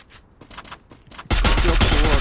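Gunfire in a shooting video game: a few scattered shots give way to a loud, sustained rapid-fire barrage that continues to the end.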